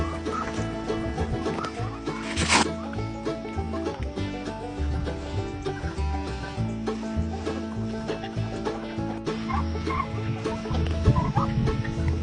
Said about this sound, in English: Now we're going to let the turkeys out, along with some of my Serrano chickens.